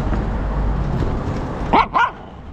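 A dog gives two quick, sharp barks close by, following a stretch of quiet background noise.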